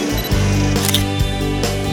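Shutter of a Canon EOS 550D DSLR set to 1/125, firing several crisp mechanical clicks in quick succession, close and loud.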